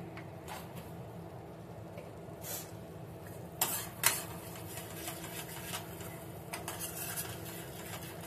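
A spoon stirs matar paneer masala in a pan, with soft scraping and a quiet sizzle running low under a few sharper metallic clinks of utensil against pan.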